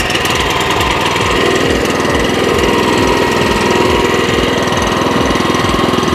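Grass-cutting machine engine running close by, a loud, steady put-put of regular firing pulses with a rough mechanical clatter over it, holding an even idle-like rhythm throughout.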